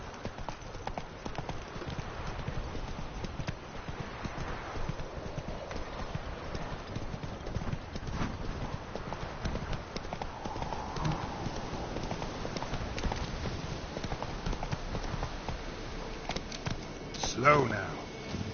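Horse hooves clip-clop steadily on the ground in the video game Witcher 3, a constant even rhythm running under someone speaking, with a brief louder sound near the end.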